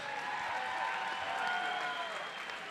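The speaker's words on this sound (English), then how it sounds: "Let's give them a loud round of applause." A crowd at a black-tie boxing event applauds both fighters after a three-round bout, sustained clapping and cheering that carries at an even level through the whole stretch, with an announcer's voice under it.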